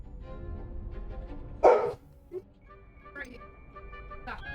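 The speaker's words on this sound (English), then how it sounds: "must be those big dogs walking around" Big dogs in the video game Hogwarts Legacy give a single loud bark burst, followed by a couple of fainter yips, over ongoing game music and ambience.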